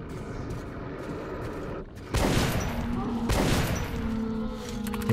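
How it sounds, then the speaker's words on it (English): Two heavy gunshots boom about a second apart in the video game Metro 2033 Redux, each a loud, sharp blast with a lingering rumble, set against a low background drone of game ambience. "Okay, two shots."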